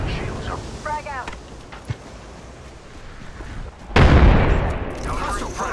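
A frag grenade in Apex Legends goes off as a loud, sudden blast partway through, followed by a roaring, noisy tail, while a voice speaks faintly earlier amid wind-like background noise.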